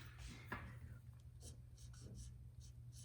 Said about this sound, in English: In my journal, that's what I'm going to write.